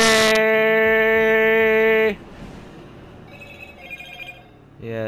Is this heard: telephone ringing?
yes